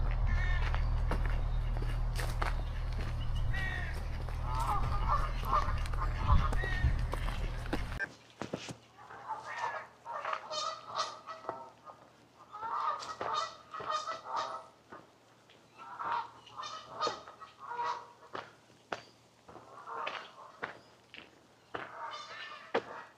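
Geese honk repeatedly in scattered, loud calls beside a canal towpath, with footsteps and wind buffeting early on and occasional bursts of overlapping honks nearby.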